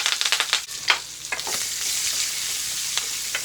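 Chopped onion, a dried red chili and curry leaves sizzling in hot oil in a pan, opening with quick crackling pops as they land, then settling into a steady close frying hiss.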